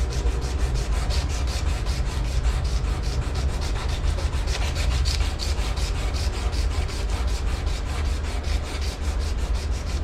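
Steady, continuous rasping of sandpaper rubbed back and forth over wood, with fast regular strokes, loud and close throughout with no talking.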